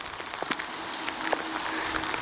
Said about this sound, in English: just as we finish, heavy rain starts pouring down